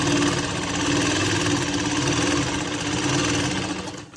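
A sewing machine stitches along the outer side of a lined shirt, its motor giving a steady, close, continuous whirring hum for about four seconds before stopping at the end.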